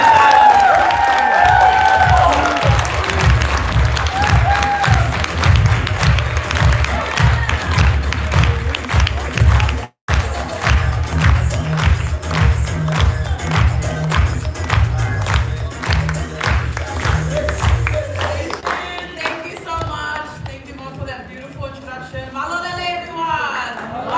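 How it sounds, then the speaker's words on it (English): An audience claps and cheers at a live event, with dense rhythmic applause that thins out toward the end while voices carry over it. "a round of applause."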